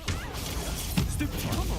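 Confringo blasting spell cast in the Hogwarts Legacy video game, a sharp crashing burst with a whooshing impact, followed by a second thud, over a steady bed of game noise.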